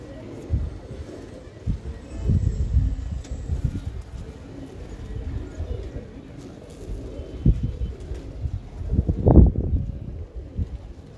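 Champion flying pigeons coo in low, uneven throaty bursts nearby, mixed with handling noise and soft background voices.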